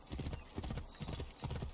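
Horse hooves clip-clop in a steady, repeating rhythm while riding along a long, winding road in the Assassin's Creed Origins game. The hoofbeats sound close and moderately loud, and a faint whinny sits under the ride.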